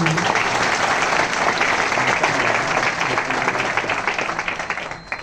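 An audience at a direct-selling seminar bursts into full, dense clapping that holds steady and then gradually thins and fades toward the end.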